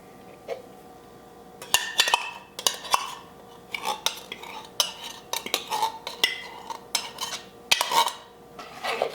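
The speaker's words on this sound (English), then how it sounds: "This time I'm gonna stir that a little to break it up because last time it stuck to itself" A utensil stirs pepperoni in a bowl, scraping and clinking against the sides in irregular bursts of close, sharp metallic taps, with quiet pauses in between.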